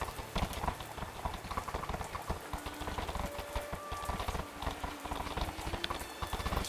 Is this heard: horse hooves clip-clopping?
yes